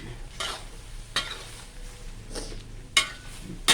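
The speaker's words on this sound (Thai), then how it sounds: "สุกแล้วมันจะจับก้อนเราก็เอา ตะหลิวบี้บี้บี้ให้มันแตกๆก้อน" A spatula mashes ground duck against a hot pan during a holy-basil stir-fry, giving sharp scraping strokes every second or so over a low sizzle.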